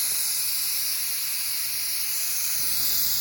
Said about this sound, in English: So you see it does still have steam coming out